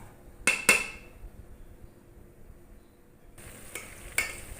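Potatoes, peas and cauliflower sautéing in a pan: two sharp clacks of a spoon scraping and stirring, then a quiet stretch with faint sizzle, followed by more soft stirring clinks near the end, close and without talking.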